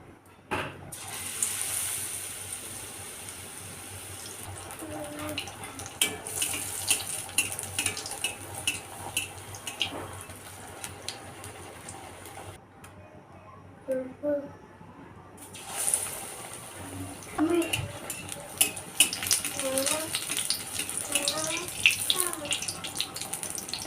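Battered eggplant fritters (beguni) fry in hot oil with a steady bubbling hiss and intermittent crackles, briefly dropping to near silence midway before resuming.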